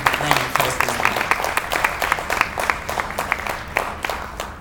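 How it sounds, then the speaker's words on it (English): Applause from an audience at a public gathering, a steady patter of individual claps, moderately close, with scattered sharp hand claps standing out and faint voices mixed underneath. "Please give a warm round of applause to them."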